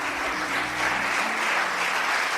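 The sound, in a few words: church congregation applauding in welcome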